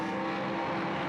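S5000 open-wheel race cars with 560-horsepower engines revving near 8,000 rpm as the field launches from the green flag at The Bend circuit in Australia, a dense, loud, steady engine roar throughout with no voices.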